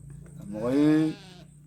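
A goat gives one clear, wavering bleat of about half a second, loud and close, rising out of quiet background noise.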